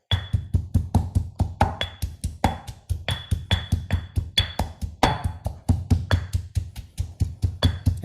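Repeated, evenly paced thumps of a pestle pounding Thai basil (pad gaprow) paste in a mortar, close and fairly loud, with no talking.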